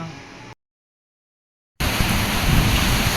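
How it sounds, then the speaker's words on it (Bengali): Steady wind-driven rain pours down on a rainy afternoon, a dense, close hiss and roar that briefly cuts to silence before resuming at full strength. "ও কি দারুণ বাতাস আর সাথে রিমঝিম রিমঝিম বৃষ্টি"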